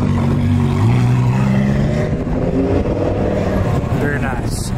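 A supercar engine, apparently a Lamborghini Gallardo, revs hard at a car show outside a local bar, with a steady loud roar and pitch that climbs and then settles, close by, while voices talk over it.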